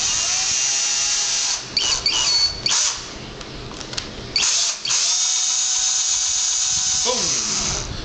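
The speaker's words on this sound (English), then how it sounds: "I put the drill bit here and I turn it on" A power drill whirs steadily at high pitch, drilling through a cloth pin bag into wood, dipping briefly a few times as it bites, then running on continuously, close and loud.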